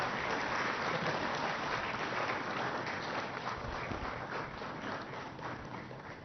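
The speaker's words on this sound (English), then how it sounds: "Have a big applause." Sustained applause from an audience at a High Court ceremony as a memento is presented, a steady dense wash of clapping at moderate level that slowly thins toward the end, with no talking over it.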